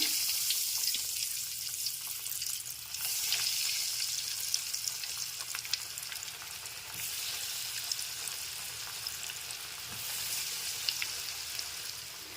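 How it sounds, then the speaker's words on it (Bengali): Vegetables deep-fry in hot oil for vegetable chops, a steady hissing, bubbling sizzle that swells and eases in waves with light crackles throughout. "এখন তেল গরম হয়ে গেছে এবার আমি এখানে ভেজিটেবলগুলো ভেজে নেব"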